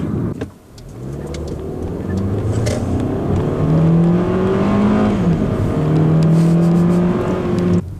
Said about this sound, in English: I'm gonna take this corner going way too fast.